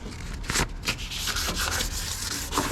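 Sandpaper rubbed over the engine bay of a Nissan 350Z in paint prep, a close, continuous scratchy rasp in quick back-and-forth strokes with brief louder swipes, heard alone.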